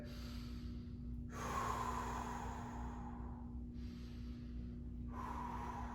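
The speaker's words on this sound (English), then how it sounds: "Big inhales and exhales." Deep, slow breaths during a seated 90/90 hip stretch: long audible inhales and exhales alternate in a steady rhythm, close and soft over a constant low background hum, with no talking.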